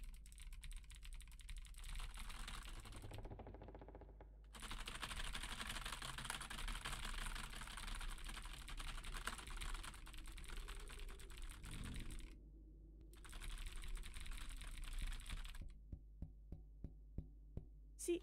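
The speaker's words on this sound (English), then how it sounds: "Why does the keyboard sound like there's two people typing?" Rapid computer keyboard typing in a horror game, dense clattering keystrokes in bursts with brief pauses, ending in a few separate sharp taps.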